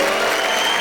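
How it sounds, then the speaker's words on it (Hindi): Audience applause for comedian Venu Gopal Bhattad at a Rajasthani comedy show, a dense, steady wash of clapping from a crowd throughout the short moment. "जरा जोरदार तालियां बताइए वेणुगोपाल जी के लिए।"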